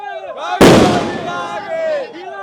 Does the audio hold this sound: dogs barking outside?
no